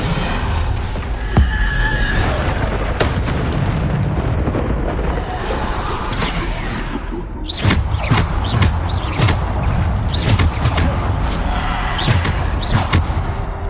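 Spell blasts and magical effects from Bombarda, Depulso, Descendo and similar casts in Hogwarts Legacy burst repeatedly in a loud, chaotic volley, with sharp cracks and whooshes piling over a constant rumbling bed.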